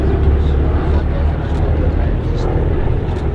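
Gloster Gladiator biplane with a Bristol Mercury radial engine flying at an air show, a loud steady propeller drone holding throughout while a commentator talks over it.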